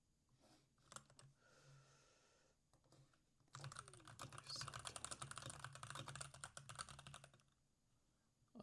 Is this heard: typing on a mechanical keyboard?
yes